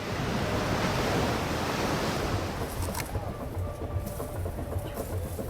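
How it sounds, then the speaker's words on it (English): Roaring water from the second biggest falls on the Congo River, a loud, steady broadband rush with wind-like turbulence that continues without a break across the whole stretch. "So this is the second biggest falls in this Congo River."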